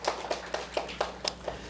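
Hand claps in a church service, a run of about seven evenly spaced, fairly crisp claps in a steady rhythm, sounding like a single clapper close by rather than a full crowd.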